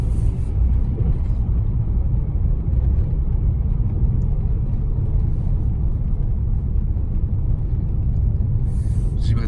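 An Audi TT quattro driving along a road, a steady loud low engine and road rumble heard from inside the car, continuous throughout with no talking.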